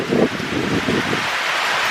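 Rain falls steadily outdoors, a broad hissing wash with a few gusty swells, close and continuous with no voices.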